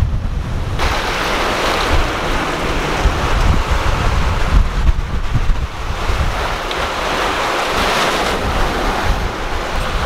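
Strong wind buffets the microphone while choppy sea surf crashes around a sailboat crossing the Caribbean between Guadeloupe and Panama, a steady loud roar of wind and water throughout with no voices.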